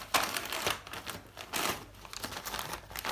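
A Malinois tearing open gift wrapping paper: quick bursts of ripping and crinkling paper, close and fairly loud, in an irregular rhythm with short pauses between the tugs.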